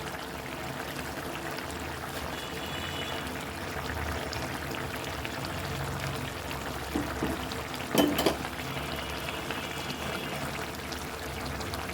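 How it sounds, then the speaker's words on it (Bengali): Mustard oil being poured into a simmering curry of spinach and puti fish, a steady close trickle over the low sizzle of the pan, with a brief louder splash partway through. "এবার আমি নামানোর আরেকটু আগে আমি এই যে একটু সরিষার তেল দিয়ে নিচ্ছি"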